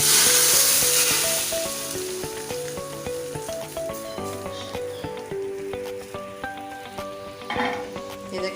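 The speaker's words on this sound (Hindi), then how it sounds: "हमारा तड़का अच्छे से तैयार हो गया। हम इसको दाल के ऊपर डाल देंगे।" Hot tadka is poured onto dhaba-style fried mash dal, giving a loud hissing sizzle that bursts at first and slowly settles, with light clinks of utensils.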